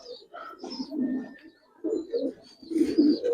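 Giribaz pigeons coo in a cage in short, low, throaty bursts, close and fairly soft, with a few brief higher chirps between the calls.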